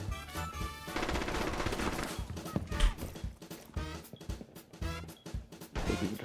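Video game shotgun blasts crack in quick, sharp bursts amid dense gameplay noise, fairly faint and uneven.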